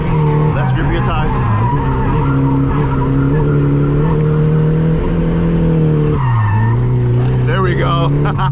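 A Nissan S14 drifting, with tires skidding in a long loud continuous squeal over a revving engine, the pitch dropping briefly near the end before climbing again; a voice talks over it.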